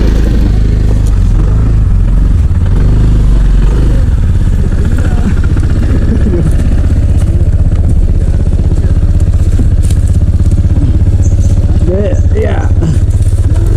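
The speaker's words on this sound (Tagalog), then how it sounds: "Mag-ikot ng motor na yun dahil pababa." A motorcycle ridden around on a sloping road in Calaca, Batangas, its engine running steadily throughout with rising revs near the end, while people talk over it.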